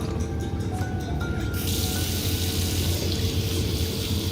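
Water from a tap running into a bathroom sink in an audio drama, a steady close rush that brightens into a fuller, hissier flow partway through.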